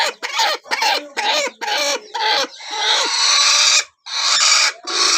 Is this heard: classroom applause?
no